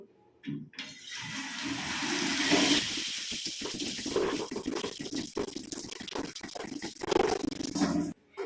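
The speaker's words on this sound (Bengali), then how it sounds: "তো চলো আগে চুলটাকে আমরা ভিজিয়ে নিই।" Water runs steadily from a tap while hair is wetted for a home hair spa, a continuous splashing rush with brief interruptions as the stream breaks against hair and hands, close and fairly loud throughout.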